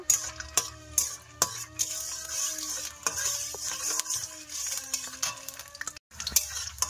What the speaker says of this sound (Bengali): বড়িটা তেলে ভেজে নেব।